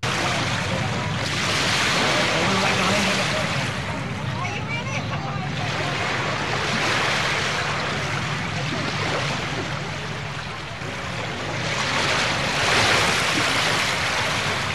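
Ocean waves slosh around a small floating grill out on the water, a loud, continuous rushing wash with rising and falling surges and some wind noise.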